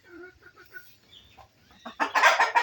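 Fayoumi hens and roosters clucking close by, a few soft scattered clucks building into a loud, dense burst of cackling from the flock at the end.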